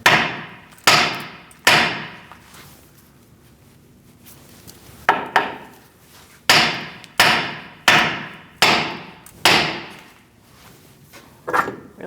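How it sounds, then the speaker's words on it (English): Repeated sharp hammer blows strike the steering knuckle of a 2002-2006 Toyota Camry during front brake dust shield replacement, about ten metallic whacks in uneven bursts, loud and close with quick decays. "Now you're going to give it a whack right here."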